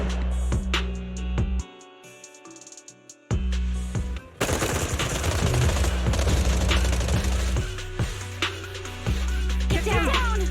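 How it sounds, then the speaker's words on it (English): Suppressive marching gunfire in Zenless Zone Zero: rapid machine-gun bursts and scattered shots crackle over a droning music bed, briefly dropping away before resuming dense and loud, with no talking. "Gunfire? This pattern. Suppressive marching fire."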